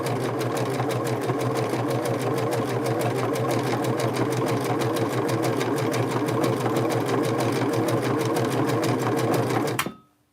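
A vintage Singer 6221c sewing machine runs steadily, its needle stitching in a fast, even, loud mechanical rhythm for about ten seconds before stopping abruptly.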